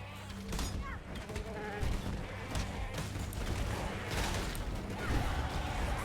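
A goat creature in the action role-playing game Path of Exile bleats amid busy game audio. Clanking mechanisms and sharp, gunfire-like impacts run underneath, all at a moderate, fairly distant level.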